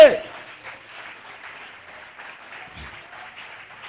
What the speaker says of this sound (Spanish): ¿Alguien puede aplaudir el nombre del Señor esta noche?